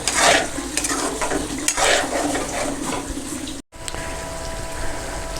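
Chicken white handi with yogurt sautéing in a pot: continuous wet sizzling and bubbling with scraping, swishing stirring strokes, close and fairly loud, broken by a brief cut before the frying continues.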